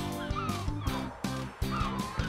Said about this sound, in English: The birds are blocking the path.